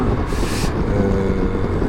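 Triumph Trophy 1200 SE touring motorcycle on a ride, a steady low engine hum with wind rush, constant and moderately loud throughout.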